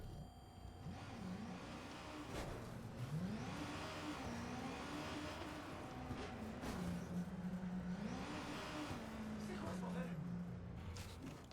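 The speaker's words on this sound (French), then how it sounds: "J'ai des bruits de moto pizza." Pizza delivery scooter engine in the video game Watch Dogs 2, a buzzing motor that rises and falls in pitch as it revs, heard up close under faint background noise.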